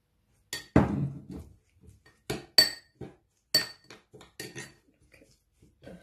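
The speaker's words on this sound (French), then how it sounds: "Je mélange" A spoon stirring a homemade coffee-ground and olive oil scrub in a bowl, giving a series of sharp, irregular scrapes and clinks against the bowl with quiet pauses between them.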